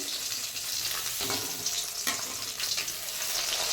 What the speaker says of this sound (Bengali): বড় বড় পাঁচ পিস মাছ এনেছে এক পিস মেয়েকে ভেজে দিচ্ছি